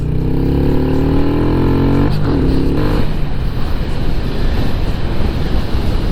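Heavy wind roars steadily over a small motorcycle's idling engine as it coasts with the clutch held in, a low broadband rush with a brief shift in engine tone partway through, no talk.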